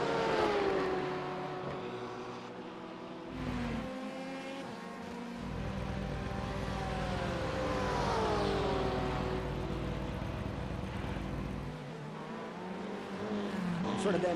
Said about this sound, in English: We heard his car coming out of the chicane.